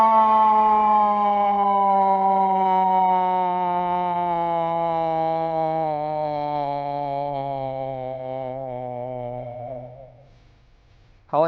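A single long siren wail, probably imitated by a voice, slides slowly downward and fades over about ten seconds, then a sharp knock ends it.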